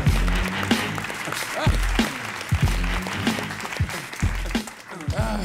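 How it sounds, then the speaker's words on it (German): Audience applause and cheering at a comedy roast as a comedian is introduced, a steady crowd clatter with some speech-like bursts mixed in, fairly loud and continuous throughout. "Großen Applaus."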